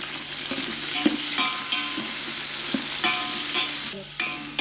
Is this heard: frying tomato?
yes